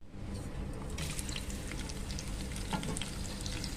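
Onions and green chilies frying in oil in a pan, a continuous soft sizzle and crackle with occasional stirring scrapes, quiet and close, no talking.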